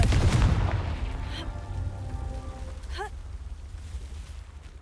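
A Confringo blasting spell explodes in the video game Hogwarts Legacy, one loud booming blast at the start that rumbles and fades over several seconds, then a brief sparkling magical chirp near the end.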